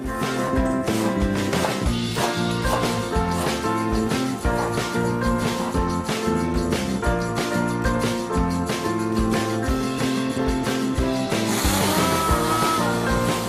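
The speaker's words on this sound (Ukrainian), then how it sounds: "Далі дрібно нарізаємо петрушку та перетиратимемо її блендером разом з підсмаженими горішками." A blender grinds finely chopped parsley together with toasted nuts, a loud, continuous rough whir with rapid rattling pulses running throughout.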